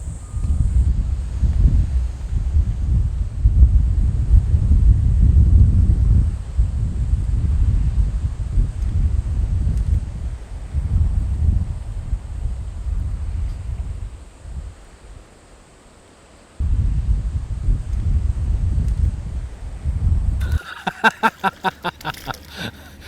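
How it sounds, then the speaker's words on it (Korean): Strong wind blows outdoors ahead of an approaching typhoon, a loud steady rumbling gust buffeting the microphone that dips briefly before rising again. "갑자기 오후 되니까 바람도 불고, 태풍 온다고 하고"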